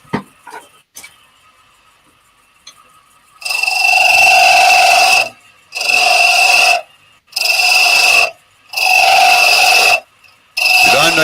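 A parting tool cutting a groove in metal on a lathe: after a quiet start, five loud grinding, screeching bursts of cutting, each one to two seconds long, separated by short pauses, close up with no talking.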